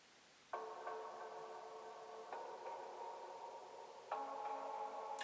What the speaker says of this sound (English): Oh, there's that reverb.